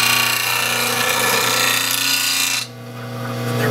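A bench grinder sharpens a woodturning scraper laid flat on the tool rest, a steady close whine of the spinning wheel with rasping grit that drops off sharply near the end as the steel comes away, no talking.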